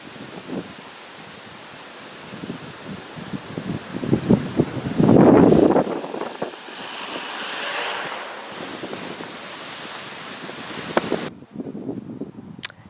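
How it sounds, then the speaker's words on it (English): Strong summer winds gust and roar across the microphone, mixed with a surf-like rush. A louder buffeting blast comes midway, and the sound cuts out abruptly near the end, with no talk. "It's strong summer winds."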